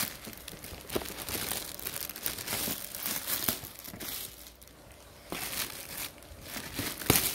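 Crinkly plastic packaging around a Dollfie Dream Towa doll is crumpled and handled, making a steady stream of close, soft crackles and rustles with a few sharper crinkles.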